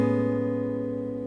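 A single guitar chord rings out close and clear, its tones sustaining and slowly decaying.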